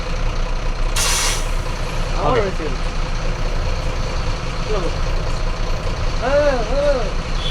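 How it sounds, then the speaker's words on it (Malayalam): A 2023 BharatBenz 2826C 6x4 truck with a 7.2-litre engine idles loudly as its hand brake is set with one sharp, close burst of air hiss, followed by chirping tones and people talking in the cab. "വണ്ടി ഹാൻഡ് ബ്രേക്ക് ഇടും"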